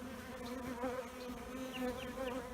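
Honey bees hum in a steady, faint drone while a varroa mite sample is taken from the colony, with a wavering pitch and no talk.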